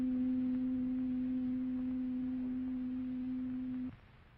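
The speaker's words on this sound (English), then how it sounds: "First, we hear the sound of middle C." A steady pure tone at middle C holds level for about four seconds, then cuts off abruptly, leaving only faint background hiss.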